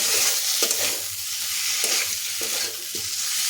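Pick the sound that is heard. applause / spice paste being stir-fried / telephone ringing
spice paste being stir-fried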